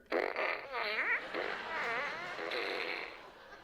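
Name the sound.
toy fart gun fart sound effect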